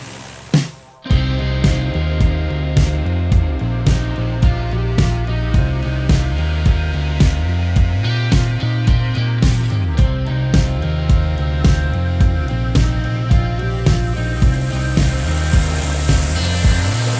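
Petrol engine driving a CAT 3,000 psi pressure washer pump, running steadily at lowered revs above idle, with a loud continuous drone and a regular pulsing throb after a brief quiet start.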